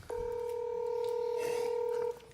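A single steady two-tone telephone dialing beep sounds for about two seconds, clear and close in a quiet room.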